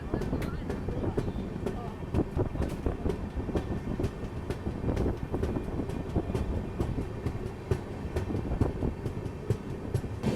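A passenger train pulling away and rolling steadily along the rails after a stop, its interior rumble and rhythmic clicking wheels continuous and moderately loud throughout, with a voice speaking over it.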